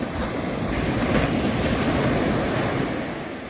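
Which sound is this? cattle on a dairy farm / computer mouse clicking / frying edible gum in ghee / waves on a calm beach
waves on a calm beach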